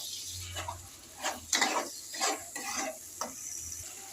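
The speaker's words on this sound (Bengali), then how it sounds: "মশলাটা এবার ভালো করে কষিয়ে নেব।" A paste of ground mustard, onion and green chili fries in a pan with grated tomato and salt, giving a soft steady sizzle broken by several brisk scraping stir strokes, close but fairly quiet.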